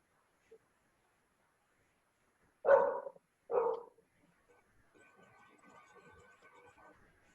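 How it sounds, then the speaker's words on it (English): A dog barks twice in quick succession, moderately loud and somewhat distant, followed by faint room noise and low murmuring. "Some dog is barking."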